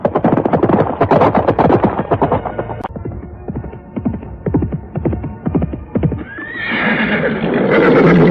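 A horse gallops in a radio drama sound effect, with rapid rhythmic clip-clop hoofbeats, loud and close, followed by a long whinny layered over a rising hum near the end.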